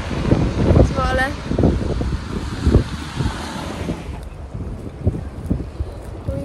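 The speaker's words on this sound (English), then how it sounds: "Walking in the wind. Yes, that's wind." Gusty wind blows across the microphone while walking outdoors through the streets of Zwolle at dusk, a steady rumbling buffet with low thumps throughout and brief voices in the background.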